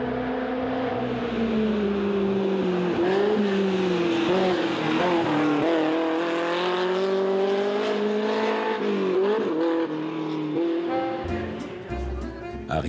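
An Alpine classic car racing in the Tour Auto 2007 gives off a loud, close, continuous engine drone whose pitch sweeps up and down throughout, with no break in the sound.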